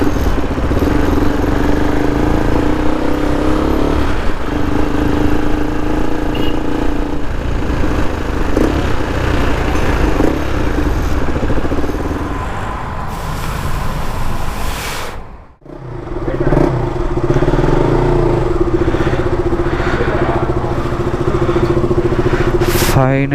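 Close and loud, a new KTM motorcycle engine runs steadily, briefly drops away near the middle and then picks back up.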